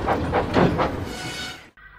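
A toy or model steam train backs into a station, giving a rumbling run with rhythmic chuffing bursts and a hiss, then cutting abruptly to a quieter hum near the end.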